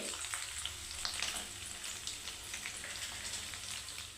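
Ginger frying in oil over medium heat in a pan for spicy mutton chutney, a steady close sizzle with crackling pops throughout.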